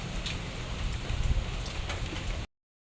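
Steady rain falls with a dense, even hiss and scattered drip patter, close and continuous until it cuts off abruptly.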